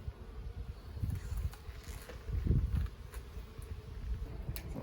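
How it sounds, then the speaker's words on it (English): Honey bees buzzing inside an opened urban backyard hive, a low, close, fluttering drone that swells and dips continuously with no talk. "a lot of bees in there."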